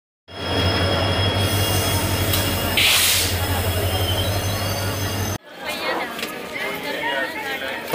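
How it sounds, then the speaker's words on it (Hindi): A train pulls into a railway station with a loud sustained rumble, low engine hum and squealing wheels, then a cut to a busier platform scene with chatter and rolling railcar noise. "ट्रेन आने वाली है"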